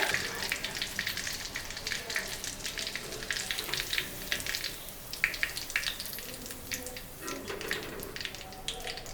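Chicken 65 pieces deep-fry in hot oil, a steady crackling sizzle with bursts of popping that rise and fall over about nine seconds, close up and with no talk.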